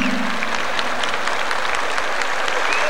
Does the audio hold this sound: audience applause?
yes